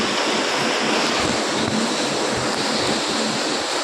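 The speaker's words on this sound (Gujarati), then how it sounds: "સુરતમાં જ ઓનલી સુરતમાં જ ખાલી વરસાદ પડી રહ્યો છે" Heavy rain pours down in Surat, forming a steady, loud, broadband rushing wash that never lets up, with wind-like buffeting and no voices.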